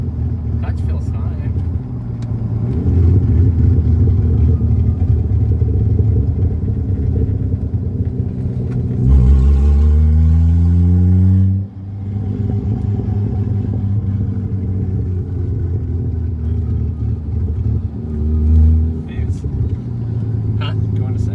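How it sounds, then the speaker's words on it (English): A Mazda RX-7 FD fitted with a 1JZ engine drives, its engine rumbling loud and steady throughout, with a rising rev sweep partway through and voices talking over the car. "driving the RX7 finally"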